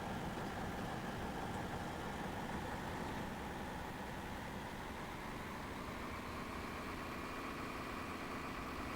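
A Class 221 train engine in Train Simulator 2018 on the North Wales Coast line, a steady rattly diesel drone running at about 90 mph, even and continuous with no speech.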